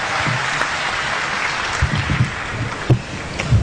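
Steady, dense applause from a crowd at a Hindi poetry gathering welcoming the poet Lajpat Rai on stage, loud and continuous with a few heavier thumps near the end.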